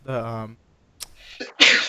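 A single sharp sneeze bursts out during a gaming podcast, following a brief voiced sound and a short pause, with the loud, breathy explosive release at the end.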